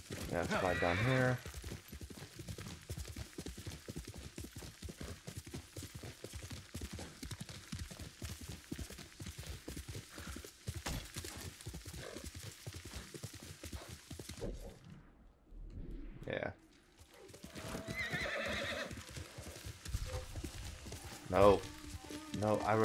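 Horse galloping and neighing in the video game Ghost of Tsushima, with steady hoofbeats and a brief whinny under continuous game sound and talk, near and moderately loud.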